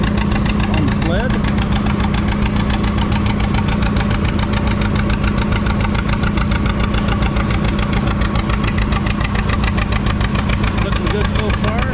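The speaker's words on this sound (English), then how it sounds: "we have a different John Deere GT" A John Deere GT garden tractor strains against a pulling sled at a vintage farm-days tractor pull in Lynden, Washington, its engine droning loud and steady with a rough, knocking pulse throughout, crowd and announcer noise mixed in.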